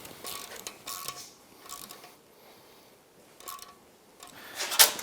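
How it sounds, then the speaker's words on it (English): Clamps being tightened during a turbo kit install on a Yamaha YXZ1000R, heard as faint, intermittent ratcheting clicks and metal mechanism noises in short bursts, with a sharper click near the end. "Let's tighten down those clamps."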